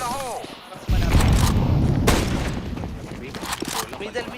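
A grenade going off in a video game, a sudden heavy boom that lands after a short quiet gap and rolls into a long, rumbling decay, with a player's voice briefly over it.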